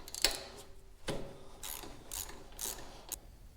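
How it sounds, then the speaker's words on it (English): Ratchet clicking in short bursts while spark plugs are loosened from a Cub Cadet 1440 garden tractor engine, sharp metallic pawl ticks repeating several times, fairly quiet and close with no talking. "let's go ahead and pull these spark plugs out"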